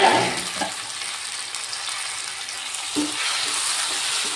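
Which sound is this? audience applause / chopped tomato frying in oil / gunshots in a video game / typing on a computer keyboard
chopped tomato frying in oil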